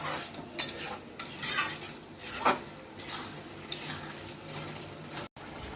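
A utensil scrapes and stirs repeatedly against a pan as water goes into a fried spice paste for a snakehead fish curry, with light sizzling under the uneven clinks and scrapes.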